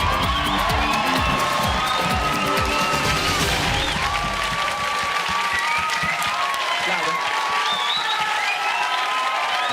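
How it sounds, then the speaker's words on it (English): A studio audience at a BBC National Lottery game show bursts into loud applause with cheers and whoops, and the clapping and shouting keep going for the full stretch while a voice talks over the noise. "please put your hands together, clap, cheer, scream, and make some noise"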